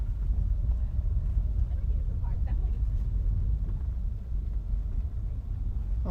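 Car driving on the road home from the gym, a steady low rumble of road and engine noise with wind buffeting throughout.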